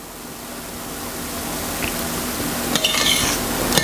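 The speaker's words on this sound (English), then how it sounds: "So you're going to let it boil for 1 minute and stir it occasionally" A boiling pumpkin pecan cheesecake mixture is stirred in a pot, giving a steady hiss of bubbling broadband noise that swells slightly, with a few faint utensil scrapes and clinks near the end.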